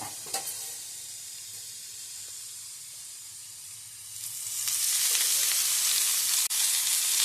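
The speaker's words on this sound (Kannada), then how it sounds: "ಎಣ್ಣೆ ಹಾಕಿ ಹುರ್ಕೋಬೇಕು" Ripe chillies frying in oil in a pan for chutney, a quiet hiss that swells into a loud, steady sizzle halfway through, close up, with one sharp click near the end.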